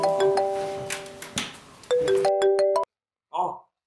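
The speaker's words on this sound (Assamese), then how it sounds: "ওই প্রেমক ফোন কর নেকি" A mobile phone ringtone plays clear, bright melodic tones as a call is placed. The tune repeats a few times, then cuts off abruptly, and a short voice follows after a pause.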